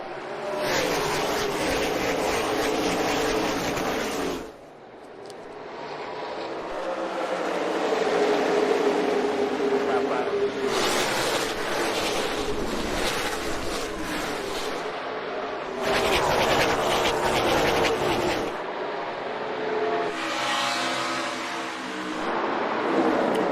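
NASCAR stock cars race at Darlington Raceway, roaring past in repeated loud waves of engine noise that swell and fade as the field comes off the final turn and takes the green flag.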